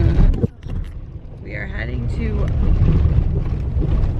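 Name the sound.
RV driving on a gravel road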